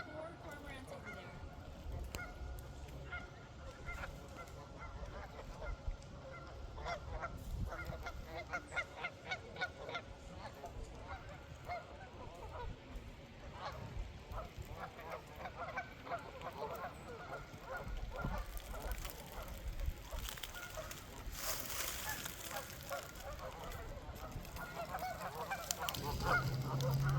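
Many waterfowl at a pond honk and call continuously in a dense, overlapping chorus, with a person talking intermittently over the birds.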